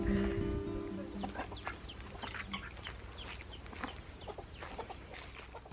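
Chickens clucking and calling inside a chicken house in an animal pen in Portugal, a steady chorus of overlapping clucks and squawks at close to moderate distance, with no talk over it.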